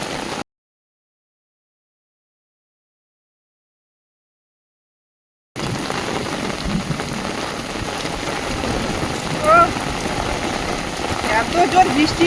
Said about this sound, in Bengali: আর মুষলধারা বৃষ্টি চলে এলো।